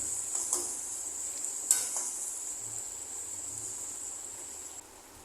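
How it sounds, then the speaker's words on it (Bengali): Ginger and tomato frying in a pan for sago khichuri, with a steady bright sizzle throughout and a few scraping stirs of a spoon against the pan near the start, close and fairly quiet, with no talk. "এই সমস্ত কিছু আমি ততক্ষণ পর্যন্ত ভেজে নেব যতক্ষণ না আদা আর টমেটোর কাঁচা গন্ধ চলে যায়"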